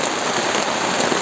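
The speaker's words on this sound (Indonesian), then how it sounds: "ini hujannya gede banget" Heavy rain pours down steadily on a badly damaged hut, a dense, close, continuous hiss with no voices.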